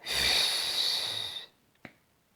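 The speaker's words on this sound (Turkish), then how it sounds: "pasta mumu üfler gibi ver." A long, steady breath pushed out through the mouth, like blowing out birthday candles during a diction breathing exercise. It runs as one close, loud airy whoosh for about a second and a half, then a brief soft click follows.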